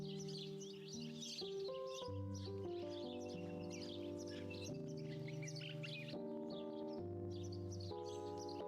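Video-game birds chirp and tweet in quick, scattered bursts over sustained background music tones, all faint and continuous with no talking.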